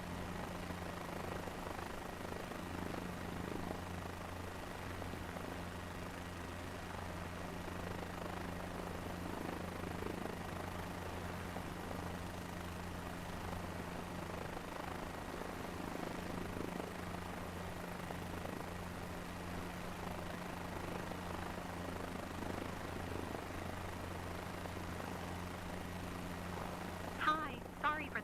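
Airplane engine noise from Flight Simulator 2024 forms a quiet, steady droning hum with faint tonal whine, running continuously beneath low speech.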